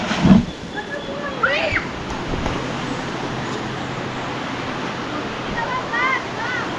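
Steady broadband rush of a flowing river at an outing spot, continuous and fairly close, with brief voices and a few chirpy sounds over it near the start and end.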